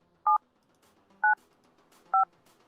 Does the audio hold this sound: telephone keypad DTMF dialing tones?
yes